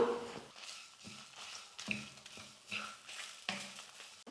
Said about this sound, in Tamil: தேங்காய் கொஞ்சம் ட்ரை ஆகிற வரைக்கும் வறுத்து எடுத்துக்கிட்டேன்.